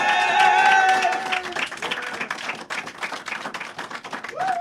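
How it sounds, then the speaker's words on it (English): Audience applauding at a women's rally, a dense patter of many hands clapping that starts over a lingering tone and continues steadily, fairly close and moderately loud. "I just want everybody to give a big round of applause."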